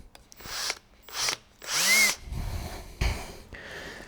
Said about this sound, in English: Let's drill them out again, and then we'll file them all.